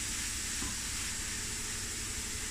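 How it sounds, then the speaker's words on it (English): Meatball mince mixture frying in a pan, a dense, even sizzle that holds steady throughout, close and alone without talk. "And now I'm just going to fry this for a few minutes"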